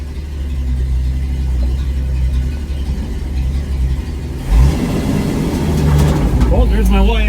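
A 1972 Ford F100 pickup on its first drive, its engine humming low and steady, then rising in pitch as it pulls away and gathers speed, with cabin rattles and someone talking over it.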